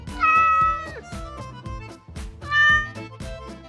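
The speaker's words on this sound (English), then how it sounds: "It's a cat." A cat meows twice, loud and close, each call drawn out with a clear rising and falling tone and a short pause between them.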